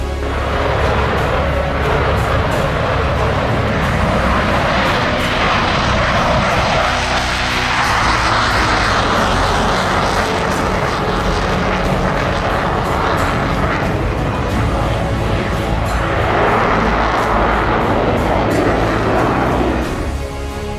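Rafale fighter jets in flight make a loud, continuous jet roar that swells and recedes over about twenty seconds, like aircraft passing overhead.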